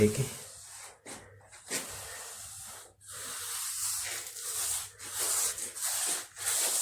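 A paintbrush brushes along the edge of a wall, making soft repeated rubbing and swishing strokes with brief pauses, close and quiet.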